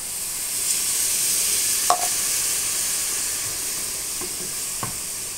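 Dried fish frying in a pan with a little water added, giving a bright, continuous close sizzle and hiss, with a couple of faint utensil taps, no voices.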